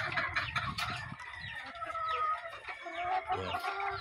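Hens used for breeding gamecocks cluck in a flock, with a rooster crowing among them; layered, continuous farmyard poultry calls fill the whole stretch at moderate loudness, with no talking.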